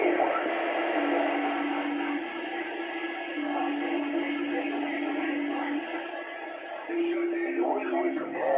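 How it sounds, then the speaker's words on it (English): A voice comes through a CB radio speaker, compressed and slightly hissy, with a steady tone under the talk and brief breaks between transmissions. "Y'all enjoy the sound of my radio."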